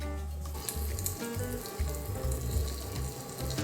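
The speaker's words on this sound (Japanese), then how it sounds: "ジュージューしてる" Faint sizzling and crackling of hot food, a soft hiss over a low hum.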